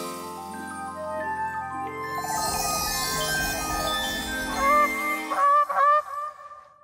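A swan honking over background music, a few loud nasal honks close by toward the end.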